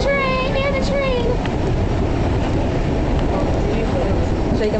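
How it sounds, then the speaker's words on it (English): Onboard a moving subway train, a constant loud rumble and rattle of the car fills the space, with a high squeal early on and people talking nearby. "we're on the train. We're on the train."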